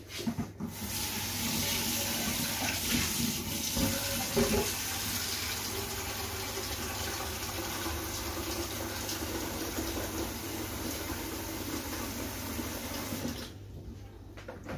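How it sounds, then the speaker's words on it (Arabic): Hot water poured into a pot of washed fava beans with salt and cumin for bessara, a steady continuous stream close by for over ten seconds, stopping near the end, no talking. "غنجيبو الماء سخون"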